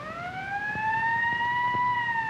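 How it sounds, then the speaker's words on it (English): An ambulance siren wails nearby in a steady, slowly rising tone, clear and fairly loud. "There's the ambulance now."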